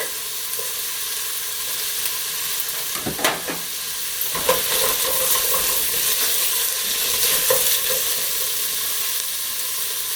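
Garlic and onions fry in a pan, giving a steady, close sizzle and hiss with a few brief clatters as they are stirred, no voices over it.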